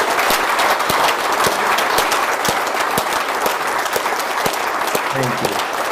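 A ceremony audience gives a loud, sustained round of applause for a whistleblowing prize winner, dense clapping filling the whole stretch without pause.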